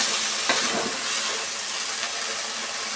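Mint leaves fry in oil in a pan for chutney, giving a continuous, close, even hiss with soft stirring textures and no talking.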